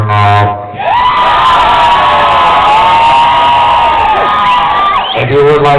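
A pub crowd at a rowdy live music show cheers and whoops loudly for several seconds, a dense sustained roar of shouting voices with high yells rising above it, framed by brief bits of talk at the start and end.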